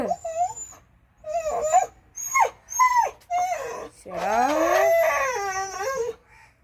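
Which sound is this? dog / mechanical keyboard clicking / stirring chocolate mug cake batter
dog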